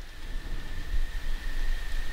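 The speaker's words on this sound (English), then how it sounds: "There's thunder and lightning." During a thunderstorm, rain falls outside a cabin as a soft, constant hiss with a low rumbling undertone, heard from indoors at moderate loudness.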